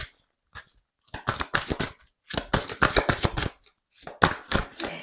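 Tarot cards from a Witchy deck being shuffled and three cards drawn, heard up close as quick papery riffling bursts separated by short pauses, with no talking.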